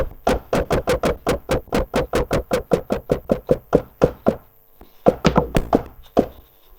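A punchy drum beat with custom distortion on an Akai MPC Live hits in a fast steady rhythm, then pauses briefly before a few more crunchy hits.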